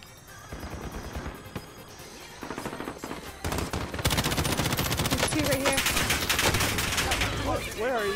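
Video-game gunfire in a multiplayer round: dense automatic bursts grow louder and more continuous partway through, with players talking over the shooting.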